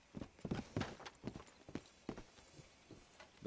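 A horse walks in a video game set around St. Denis: a soft, steady clip-clop of hooves, rhythmic and fairly close but quiet, continuing throughout with no talk.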